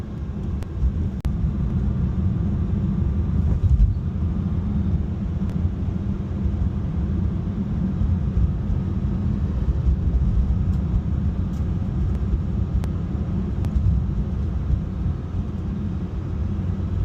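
Porsche 992.2 GT3 cruising in third gear at about 1,900 RPM on London streets, a steady low engine drone with road and wind rumble throughout, no talking.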